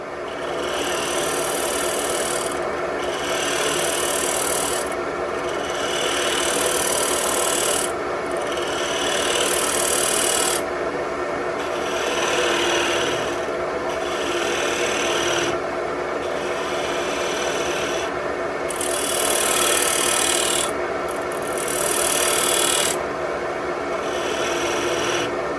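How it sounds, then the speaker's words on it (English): On a lathe, a wood turning scraper smooths the stem of a wooden wine glass, giving a continuous rough scraping hiss over the spinning machine's hum, with the hiss swelling and easing in regular bursts. "now going to use a scraper on those shelves because those were uphill"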